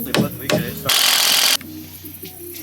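A power drill drives screws into plywood in short bursts outdoors: two brief whirring hits, then one longer loud run. A low rumble continues after the drilling stops.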